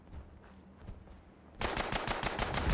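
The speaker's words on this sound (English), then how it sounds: "Now we're getting shot at by something else." Rapid automatic gunfire bursts out loud and close in the video game Fallout 76, a dense rattling volley erupting suddenly after a quieter stretch of game ambience.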